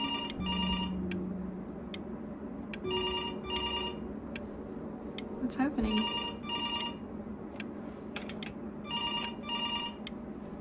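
A telephone rings in the video game Before Your Eyes, with repeated bursts of bright electronic trilling at a steady rhythm against quiet background hum. Someone talks briefly between the rings.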